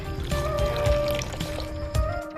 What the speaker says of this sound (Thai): แล้วก็เทน้ำลงไปค่ะ